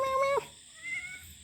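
A cat gives a single short, fairly faint meow near the start, followed by quiet room background.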